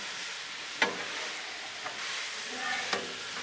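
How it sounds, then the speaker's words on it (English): Teriyaki chicken and broccoli sizzle steadily on a Blackstone griddle top, broken by three distinct metal spatula scrapes as the food is stirred together, with no one talking. "So, I say, let's mix it all together."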